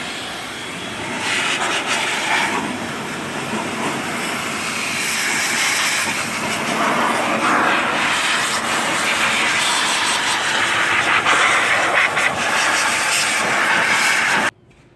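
Compressed air blowing water out of a Porsche Cayman engine bay, a steady loud roaring hiss held for about fourteen seconds before cutting off abruptly.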